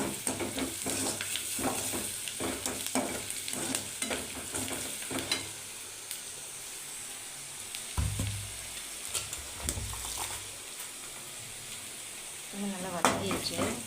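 Oil sizzles steadily while ingredients for drumstick leaf poriyal are sautéed, with rhythmic spatula scrapes and taps against the pan for the first half, then quieter frying with a few louder knocks near the end.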